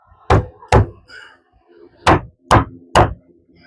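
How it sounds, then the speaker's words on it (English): A hammer strikes during repair of a water-damaged, leaking roof, five loud, sharp blows in two clusters with brief pauses between, close by and with no voices. "now I can get my hammer up in there"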